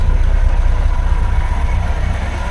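A Triumph Herald Estate's rough, low engine idle rumbles steadily, its note slightly uneven and lumpy, close by with no talking.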